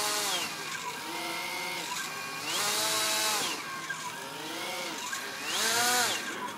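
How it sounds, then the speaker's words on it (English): On a FrSky Rover3 tilt-rotor tricopter, the electric tail rotor whines loudly and sweeps repeatedly up and down in pitch as it speeds up and slows down, heard up close with no talk. "that's speeding up and slowing down the tail rotor"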